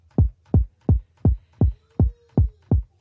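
Eight evenly spaced kick drum hits run through a compressor, each a punchy low thump with a short decay, played alone at a steady tempo.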